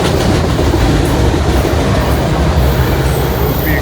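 A freight train rumbles past close and loud, with continuous rolling noise and rhythmic clickety-clack of wheels over rail joints.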